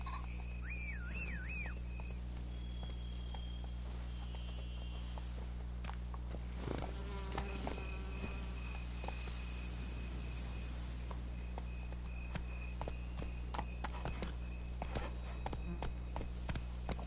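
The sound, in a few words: hooves of Geralt's horse Roach, from video game Witcher 3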